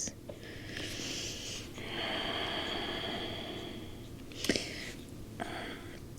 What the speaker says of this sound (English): maybe take some cleansing breaths